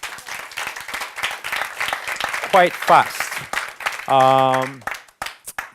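Scattered clapping from an audience at a business talk about franchise deals, with uneven claps over the first seconds, then a voice speaking and a sustained electronic tone near the end.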